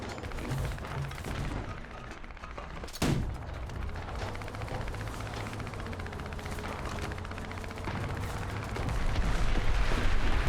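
Machine gun fire in the War Thunder tank battle game, a continuous dense rumble of rapid bursts with a sharp impact near the start, loud and steady, intensifying toward the end.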